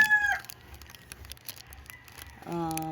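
Chickens on a farm cluck and crow in short bursts, with a clear crow at the start and another at the end, fairly close and loud.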